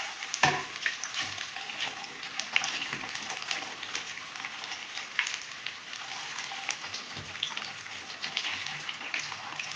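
Kerala banana fritters (bajji) frying in hot oil, a steady close crackling sizzle with scattered pops, no voices.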